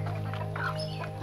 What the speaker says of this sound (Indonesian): Nah, itu suara burungnya.